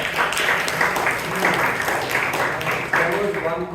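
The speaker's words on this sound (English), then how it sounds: "You can give him a round of applause" Applause at a Toastmasters club meeting in Bangalore, a group clapping at moderate loudness with a faint voice murmuring underneath near the end.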